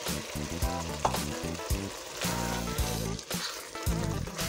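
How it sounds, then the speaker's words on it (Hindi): Boiled mash dal fries in a spice masala and is gently stirred, giving a continuous close sizzle with occasional stirring scrapes under background music, with no speech. "मसाले में इसको अच्छी तरह से भूनेंगे।"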